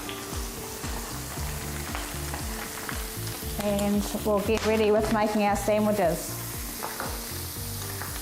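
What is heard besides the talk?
beef sizzling in a pan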